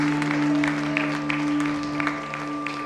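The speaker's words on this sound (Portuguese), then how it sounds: "Você pode aplaudir a Ele, amém? Bem forte, bem forte." A church congregation applauds during worship, with scattered hand claps over a sustained keyboard-like musical tone.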